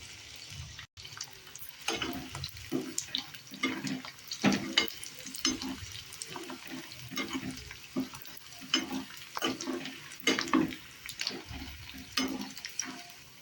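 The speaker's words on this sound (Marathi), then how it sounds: "थोडं थोडं करून तळायचा जास्त नाही टाकायचा कारण ते सगळा फुलला पाहिजे आणि गॅस कमी ठेवायचा" Edible gum (gond) puffs up while frying in oil on low heat for ladoos, making a soft, uneven bubbling sizzle with stirring sounds, fairly faint and close.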